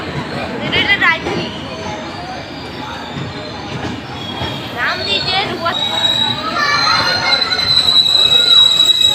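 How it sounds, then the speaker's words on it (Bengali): The Rupasi Bangla Express rolls into a station bound for Howrah, its wheels squealing and rumbling steadily and close by, beneath a busy murmur of passengers and chatter on the platform. "রূপসী বাংলা এক্সপ্রেস দাঁড়ালো এটা সোজা হাওড়া যাচ্ছে"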